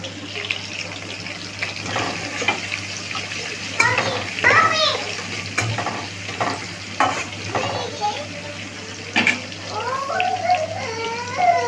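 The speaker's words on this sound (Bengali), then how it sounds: "একটু নাড়িয়ে নেব আমি" A spoon stirs whole cumin seeds sizzling in hot oil in a pan while a vegetarian paneer curry is cooked, with scraping and crackling frying sounds beneath a voice talking.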